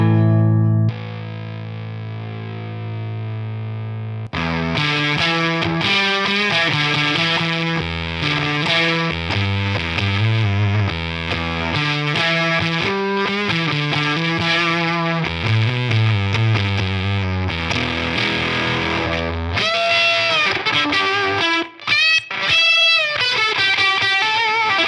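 A DOD Carcosa fuzz pedal running at 7 volts drives an electric guitar: a clean sustained chord opens, then loud fuzzy riffs and chords play steadily, ending in bright squealing high notes.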